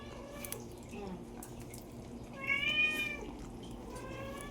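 Two cats meow at home, short rising and falling cries with one clearer, louder meow near the middle, heard against quiet room noise and soft background sounds.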